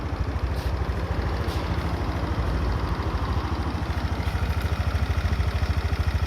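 Honda Dio 110cc scooter with a slightly weak battery, engine catching and settling into a steady, even idle that runs close and continuous with a fine rhythmic pulse throughout.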